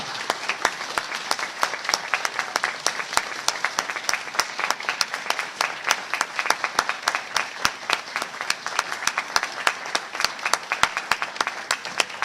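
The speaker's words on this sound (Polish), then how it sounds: "Tak jest, mogą być wielkie brawa" A crowd at a children's song and poetry contest final in Strzelno gives a long, lively round of applause, dense clapping with sharp individual claps standing out, continuing steadily for several seconds.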